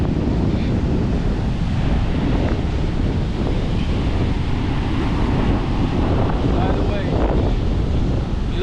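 Steady roar of ocean waves rolling onto a wide beach at Cabarete in the Dominican Republic, loud and continuous with heavy wind buffeting the microphone, no pauses between breakers.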